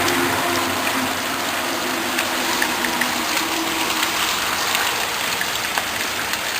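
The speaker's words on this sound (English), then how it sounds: "Rain's starting to come down a little bit better now." Steady rain falls during a storm at a farm near Fountainville in Bucks County, a continuous, even hiss of drops with no gaps, moderately loud and close, with no voices present.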